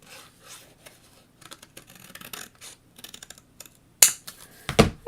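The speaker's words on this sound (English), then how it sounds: "now I'm just going to go ahead and trim off the excess." Scissors trimming the excess off a handmade stamped greeting card, a run of quiet snips and paper rustles, close and soft, ending in a few louder crisp cuts, with no talk.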